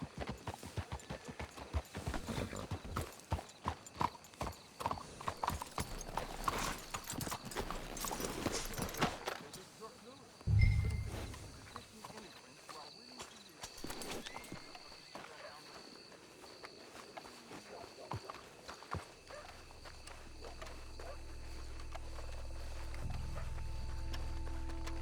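Horses clip-clop in Red Dead Redemption 2, hooves walking on the ground at close range with steady irregular steps, then slowing and thinning out, followed by a low rumbling ambience.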